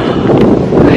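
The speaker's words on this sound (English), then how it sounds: "Darn it, it's so windy." Strong wind blasts across the microphone in a loud, continuous rumbling roar, on a freezing hike at Mission Peak.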